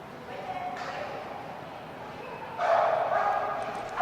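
Australian Shepherd at a dock jumping competition, barking amid a busy outdoor crowd with ongoing chatter, the barks blending into the general noise rather than standing out sharply.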